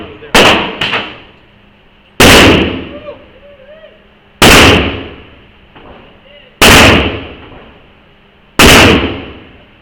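Gunshots at an outdoor gun range: five loud, sharp reports spaced about two seconds apart, each ringing out briefly in a quiet setting.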